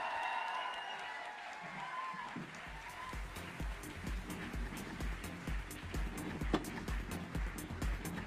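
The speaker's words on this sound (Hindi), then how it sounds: "तालियां जोर से बजती रहे" An audience at a direct selling business summit applauds, the clapping swelling after a quieter moment and then continuing as a dense, rhythmic patter of many hands, with a faint background hum.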